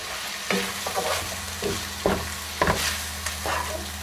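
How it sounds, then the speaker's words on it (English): A spoon stirs tomato paste through beef stew in a hot floured pot, scraping and knocking in irregular strokes over a continuous close sizzle. "Stir that through."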